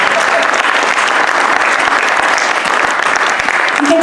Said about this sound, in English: So give them a round of applause right now.